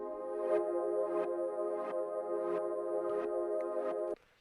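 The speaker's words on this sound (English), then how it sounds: "And the two pads combined sound like this." Two synth pads layered into a thick, mid-heavy chord, pulsing rhythmically with swells that duck on each beat, then stopping abruptly near the end.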